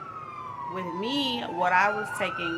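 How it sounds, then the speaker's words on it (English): A wailing siren with rising and falling pitch sounds close by, with a person talking over it. "excuse the sirens, I am in the hood."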